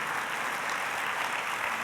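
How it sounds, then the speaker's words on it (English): Conference audience applauding the host committee at a national conference plenary, a dense, even wash of clapping from a large crowd throughout. "please clap so we can clap for you"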